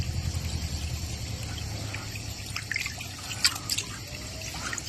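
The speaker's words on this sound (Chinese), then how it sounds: "它是泉水。" Spring water flows steadily over a bed of stones, with a continuous trickle and scattered close drips. The sound is outdoors and fairly quiet, and no one speaks.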